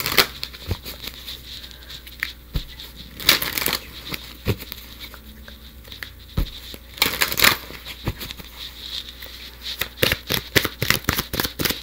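Romance angel oracle cards being shuffled by hand, a run of crisp riffling and slapping bursts with irregular sharp card snaps, close and fairly loud, with no talking.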